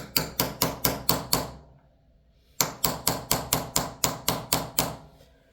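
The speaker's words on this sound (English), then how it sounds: "Now for the hammer and the punch." Two quick series of sharp metallic hammer taps on a punch driving a night sight into a pistol slide, about six and then nine evenly spaced strikes, separated by a brief silence, close and crisp.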